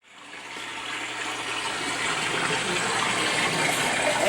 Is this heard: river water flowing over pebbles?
yes